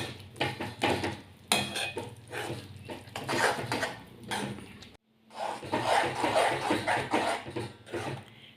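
Spoon scraping and knocking in a pan of methi besan curry with fenugreek leaves and chickpea flour, steady rubbing strokes and clinks close up, a brief pause near the middle, no talk.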